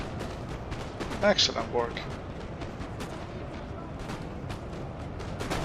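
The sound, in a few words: gunfire and artillery in video game Napoleon: Total War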